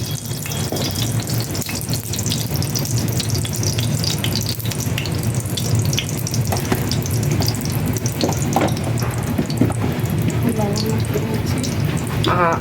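Potatoes fry in ghee in a frying pan with a steady, dense sizzle throughout, close and fairly loud, with faint voices in the background.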